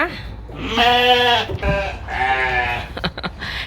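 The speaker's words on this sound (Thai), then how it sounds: "พาดูลูกแกะที่เราจะส่งเข้าโรงงานพรุ่งนี้ค่ะ" Lambs and sheep on a farm in Norway bleat nearby in several long, wavering cries, followed by a few short clicks and rustles.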